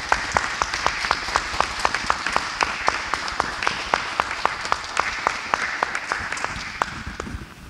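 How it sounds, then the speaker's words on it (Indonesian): A church congregation claps together in steady, lively applause at a Sunday Advent service, many hands beating a quick even rhythm close by, with a faint voice underneath. "Mari kita sambut kedua saudara kita ini dengan sorak-sorai dan sambil bertepuk tangan dengan meriah"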